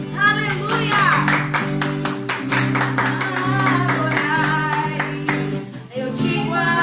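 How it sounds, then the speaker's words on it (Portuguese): Rhythmic clapping from a church worship congregation sounds over loud singing and music, an even beat of many hands running under the voices and fading briefly near the end. "aplauda o nome do Senhor Jesus"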